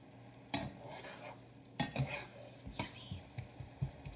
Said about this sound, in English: Okay, so my apples are starting to boil.